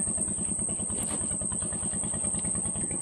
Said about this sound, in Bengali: সামনে নদী, নৌকা চলছে।